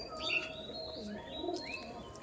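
A pair of Madras pigeons from a loft cooing softly, a few low murmuring calls near at hand, with chirps and tweets higher up over steady background hiss.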